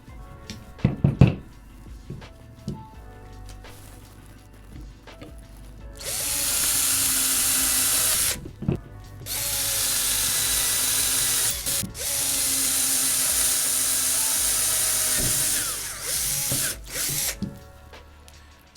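An electric drill bores through aluminum for a carbon fiber bass neck install, a steady loud whine running for about ten seconds with brief pauses, after a few sharp clicks and taps at the start.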